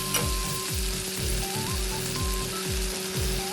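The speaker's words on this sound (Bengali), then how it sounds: "এবার আমি ফোড়নগুলোর মধ্যে আমার বেটে রাখা মশলাটা দিয়ে দিচ্ছি।" Ground spice paste with cashew and melon seed paste drops into hot cumin tempering for a vegetarian potato curry and fries with a loud, dense, continuous sizzle. A low, regular rumbling pattern runs underneath. No voices.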